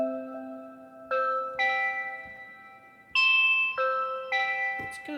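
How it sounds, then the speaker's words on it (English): Synthesized bell tones from a grid sequencer on a Monome Norns ringing out one after another, about six bright chiming notes at shifting pitches, each sustaining and fading, fairly soft and close. "It's kind of a nice bell sound."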